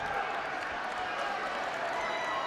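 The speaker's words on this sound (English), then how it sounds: "And Bowling Green fans applauding the foul call." Bowling Green basketball fans applaud a foul call in a college game against Western Michigan, a steady, dense crowd clapping and murmur filling the arena without a break.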